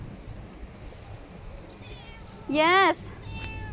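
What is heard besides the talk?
stray cat meowing on a Bahrain street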